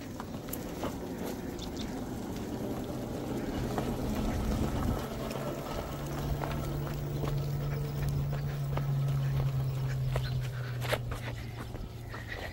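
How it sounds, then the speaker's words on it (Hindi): An electric bike straining to tow a tractor outdoors, its motor giving a low steady hum that strengthens midway amid scattered clatter and knocks, fairly quiet throughout. "इलेक्ट्रिक बाइक ट्रैक्टर को खींच रही है देखो।"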